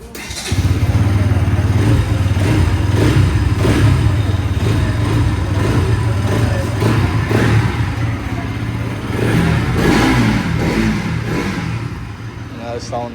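A Bajaj Pulsar NS200 motorcycle engine runs loudly nearby with a steady low rumble and repeated throttle blips, a voice speaking faintly over it.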